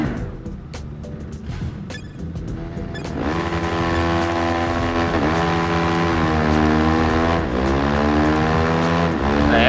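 Two 300–400cc motorcycles, a Yamaha R3 and a KTM, race in a 1 km drag, engines revving loud and close with rising pitch sweeps as the riders shift through the gears.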